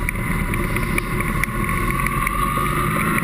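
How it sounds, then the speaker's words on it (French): BMW R 1100 GS motorcycle engine running at low speed on a small country road, a loud, steady, continuous drone mixed with wind rush throughout. "Et le moteur est un peu bruyant quand même."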